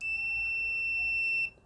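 Continuity-test beep from a BSide S10 digital multimeter: one steady, piercing electronic tone held for about a second and a half, then cut off, with no voices.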